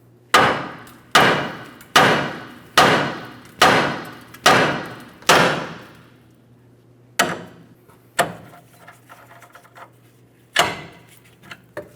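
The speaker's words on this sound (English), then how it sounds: "This can typically be done by tapping with a hammer." Hammer tapping on a 2015-2025 Ford Transit-250 front steering knuckle joint: seven sharp, evenly spaced metallic blows, then a few scattered lighter taps, close and loud with no talking.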